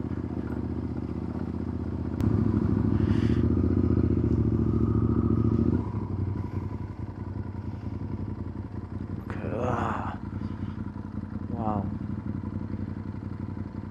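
A motorcycle rolls over a rough cobblestone road, its engine a steady close drone with rattling and clattering from the bumpy surface, and a brief louder surge partway through.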